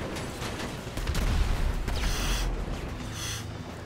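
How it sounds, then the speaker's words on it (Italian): Explosions in a video game come one after another in a dense, rumbling barrage, loud and continuous with heavier bursts swelling through the middle. "Esplosioni su esplosioni."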